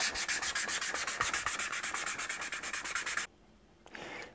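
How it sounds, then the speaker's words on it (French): Sandpaper worked by hand on a leather satchel, a fast, even rhythm of rasping back-and-forth strokes, close and loud, stopping abruptly, then one brief softer rub after a pause. "d'un bon papier à poncer et d'un peu d'huile de coude"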